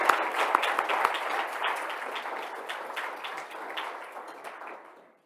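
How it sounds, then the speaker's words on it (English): A roomful of people clap at an awards luncheon, a close, dense burst that holds steady before fading out at the end. "Again, a round of applause."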